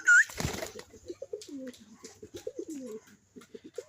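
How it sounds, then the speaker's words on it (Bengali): Pigeons newly brought home from a market coo at fresh arrivals, a run of low, throaty, rolling coos repeated close by after a brief sharp chirp and a burst of fluttering wings at the start. "নতুন কবুতর দেখে এ ডাকাডাকি করছে"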